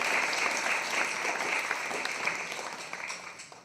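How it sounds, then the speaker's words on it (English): Steady audience applause at a storytelling pre-launch event in London, a dense wash of many hands clapping at an even level throughout, fading slightly toward the end. "Applaud it."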